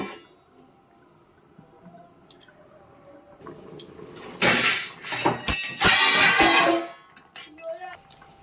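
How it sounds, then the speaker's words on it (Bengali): Meat curry bubbling and boiling in a covered pot, with loud, dense sputtering and hissing bursts through the middle stretch, quieter simmering before and after. "এখন কিন্তু মাংসটা টকবক করে ফুটে ফুটে যাচ্ছে"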